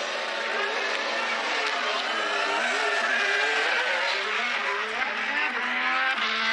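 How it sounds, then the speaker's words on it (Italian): A Ferrari Formula 1 car's V6 engine running after start-up at the Fiorano track, a loud, continuous high-pitched engine tone with rising and falling revs, close and without talk. "l'auto viene accesa e il suono del V6 si sprigiona"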